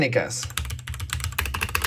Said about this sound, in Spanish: amigos escuchen estas deliciosas teclas mecánicas